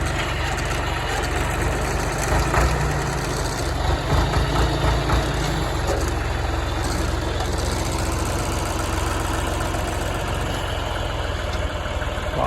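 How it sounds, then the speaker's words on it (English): A green John Deere tractor, used for hay hauling on a farm, runs steadily nearby with a continuous low, rumbling engine drone and slight knocking texture throughout. "Coming back over here to get on this John Deere."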